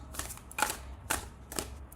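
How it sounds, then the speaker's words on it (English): A deck of cards is shuffled for a card reading in a quiet room, giving four soft, rhythmic riffling bursts about half a second apart, close and faint, with no talk. "while I shuffle and pull out the cards."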